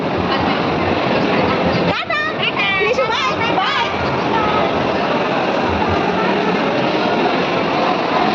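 A toy ride-on train rolling through a shopping mall, a loud steady rumble and clatter that runs the whole clip, with a voice and chatter briefly over it.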